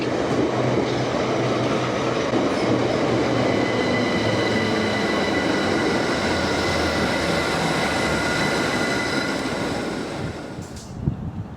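A South Western Railway train to Dorking rumbles loudly close by as it arrives at a station, wheels rolling and faintly squealing as it slows, the noise easing off near the end.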